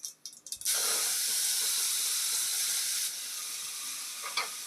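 Water poured into a hot cooking pan of spinach, garlic and chilli sets off a loud, steady hiss of sizzling that eases slightly partway through, with faint stirring clinks near the end.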